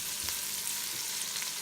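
Bacon and onion sizzle in a Ninja Foodi, a quiet, steady crackling fry with faint pops throughout.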